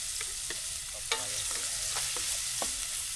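Onion and garlic sautéing in hot Star Margarine, a steady broadband sizzle with a few sharp stirring clatters and scrapes spaced through it, close and fairly loud.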